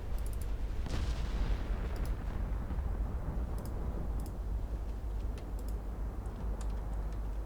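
Naval guns on warships in a 1954 Norwegian campaign naval strategy game boom in a loud, sharp blast near the start, followed by sustained heavy rumbling and scattered crackling impacts, with no talking.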